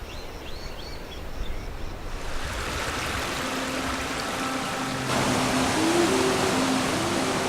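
The Debed River flows past its banks in northern Armenia, a broad, continuous rush of water that swells louder partway through, with faint chirps and a low hum in the background.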